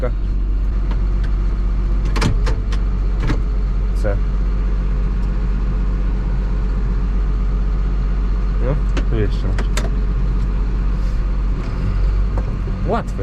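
A tractor engine turns over and then runs in a steady low drone close to the microphone, while someone talks over it with occasional clicks and knocks nearby.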